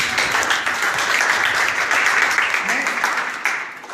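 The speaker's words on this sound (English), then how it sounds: "I think we should clap for him." Students clap for a classmate in a school setting, a dense, continuous patter of hands that stays fairly loud and even across the clip before tapering slightly, with some speech mixed underneath.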